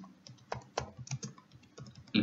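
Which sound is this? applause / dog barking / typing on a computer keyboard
typing on a computer keyboard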